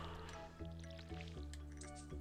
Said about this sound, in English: Need to remember how you get more water in your watering can.